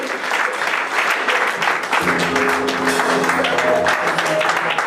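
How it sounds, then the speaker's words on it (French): A church congregation claps and cheers in praise during a French-language worship service, a dense, loud burst of applause joined midway by a sustained sung or shouted tone. "Nous acclamons très fort pour la gloire de notre Dieu"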